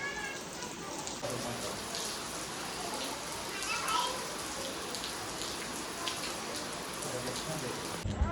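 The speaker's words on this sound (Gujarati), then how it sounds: "ખબર નહીં આ રાઉન્ડમાં કેટલો વરસાદ આવશે" Steady rain pours down in a village, a constant hiss of drops on surfaces throughout, with voices of people and children faintly underneath.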